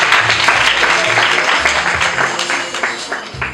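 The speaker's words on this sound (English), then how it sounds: "Let's clap for her." An audience claps for Fazila after she is named Best Team Leader 2021 at a graduation in Nairobi; the clapping runs steady and fairly loud throughout, dense and continuous.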